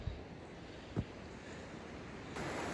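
A river runs fast under high pressure at night, giving a steady broadband rush that fills the whole clip. It is fairly faint, with a couple of soft thumps and no voices.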